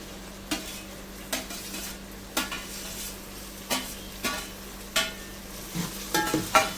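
Tomatoes frying in a pan for chicken biryani, a steady low sizzle broken by regular scraping knocks of a spoon stirring roughly every second, quickening at the end.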